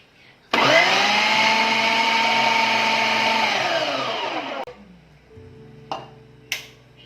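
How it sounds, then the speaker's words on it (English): Philips HL7707 mixer grinder with a food processor attachment grating carrot, its motor whirring loud and steady for about four seconds before winding down, followed by a few sharp clicks and taps. "Let me attach this one to the jar. So just put the carrot like this for grating."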